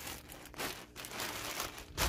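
A plastic vinyl sheet crinkles while being laid over radishes stored for winter, loud close rustling in several bursts with a sharper crunch at the end.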